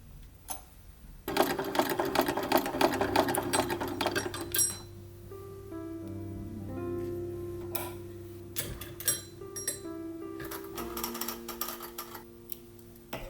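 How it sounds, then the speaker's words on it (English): Sewing machine stitching the side seams of a simple gathered skirt, its needle running in fast bursts that stop and restart several times, close and clear with no talk. "With the body pieces right sides together, sew the side seams."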